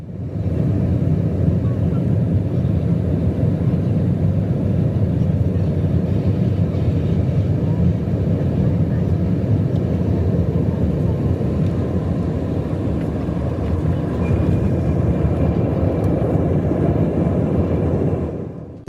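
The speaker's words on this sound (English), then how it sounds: "two civilian planes dropped in for landing at exactly the same time" Two civilian airplanes landing together at San Francisco International Airport, heard as a loud continuous low roar of engines and wind from inside the cabin, steady throughout.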